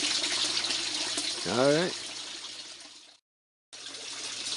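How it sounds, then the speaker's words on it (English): Water trickles and hisses steadily from a hole in an aquaponics fish tank, a broadband wash running under a brief spoken word, cutting out for a moment before resuming. "Got a hole in the fish tank."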